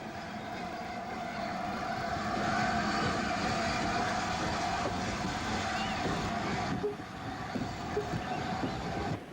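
An R1 tank steam locomotive hauling a boat train rumbles past with a steady, heavy roar of wheels and engine, loud and continuous throughout, with faint clanks near the end.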